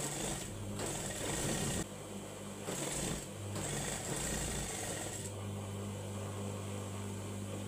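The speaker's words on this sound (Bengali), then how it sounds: "এভাবে আমি এখন শোল্ডারটি সেলাই করব।" A sewing machine stitches the shoulder seam of a six-panel round-neck dress, its fast needle chatter running in loud close bursts separated by short pauses.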